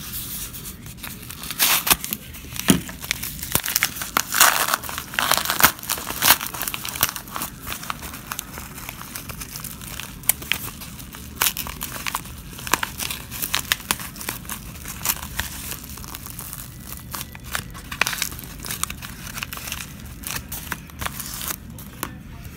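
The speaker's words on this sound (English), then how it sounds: "Now let's get into some packages." Mail packages holding trading cards are unwrapped, with continuous close crinkling, rustling and tearing of plastic and paper wrapping, busy and uneven throughout.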